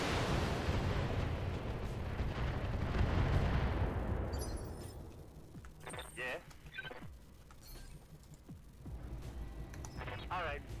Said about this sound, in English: Mostly in the form of all the missiles hitting them in the face.